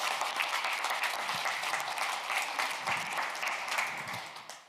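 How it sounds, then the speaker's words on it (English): Steady applause from a conference audience, continuous dense clapping at moderate volume that tapers off slightly at the end. "please join me in another round of applause for all of our country pitches today"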